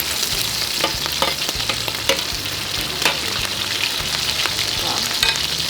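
Shrimp frying in a paella pan, a dense, steady sizzle with frequent stirring clicks and scrapes, close and fairly loud, with no one speaking.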